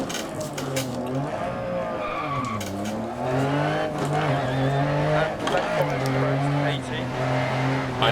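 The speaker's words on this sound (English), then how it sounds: "This is a really narrow area to spin the car." A Lancia Stratos rally car spins on a narrow, slippery Monaco stage in the Dirt Rally video game, with its engine revving and wavering in pitch under continuous tyre skidding, and a driver talking over it.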